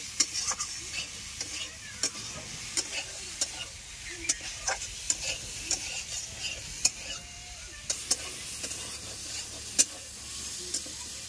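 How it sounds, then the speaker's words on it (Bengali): Pointed gourd posto curry sizzles in a pan while a utensil stirs it, with regular scraping clicks over a soft, steady frying hiss, close and quiet. "ভালো করে নেড়ে করে নেবো, মশলাটা ভালো করে রেখে যায়।"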